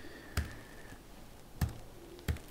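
A phone number is typed on a computer keyboard as three separate soft key clicks, spaced irregularly, close and quiet against a faint background.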